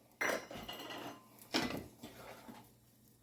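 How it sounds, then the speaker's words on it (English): Spoon scraping and clinking against a pot while stirring Cajun chicken soup, with two clear bursts of metallic stirring noise separated by quieter shuffling. "we're going to stir all of this in"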